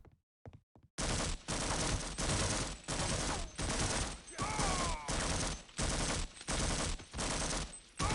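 Sustained automatic gunfire in a military game, long loud bursts of rapid shots separated by short pauses, after a few quiet clicks at the start.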